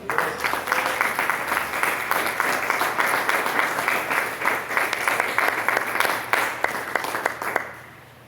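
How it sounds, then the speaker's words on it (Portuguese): A church congregation applauds steadily during a Portuguese-language service, a dense and fairly loud wash of clapping that holds for several seconds before tapering off at the end. "Você pode aplaudir o nome santo do Senhor?"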